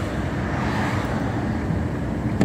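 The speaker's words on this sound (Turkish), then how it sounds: "Motoru dinle hanım, motoru dinle." A steady, continuous rumble of a car engine running, close and even throughout, with low droning noise and no voices.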